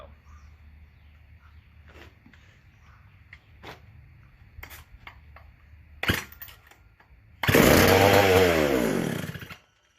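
McCulloch SP125 chainsaw engine briefly firing up after an idle adjustment, a loud close rising buzzing whine lasting about two seconds after scattered clicks and handling noises, then cutting out.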